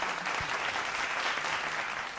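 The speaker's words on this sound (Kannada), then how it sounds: "ನಿನ್ನ ಆ ಪ್ರಯತ್ನಕ್ಕೆ ನನ್ನದೊಂದು ಚಪ್ಪಾಳೆ" A studio audience at a singing reality show claps for a singer, a short burst of dense, steady applause without a voice over it.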